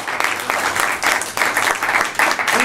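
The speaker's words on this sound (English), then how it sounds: "Let's give him a round of applause." Audience applause at an H-1B visa immigration seminar held at Capital Factory in Austin, Texas, a steady, dense burst of clapping filling the room throughout, with no speech over it.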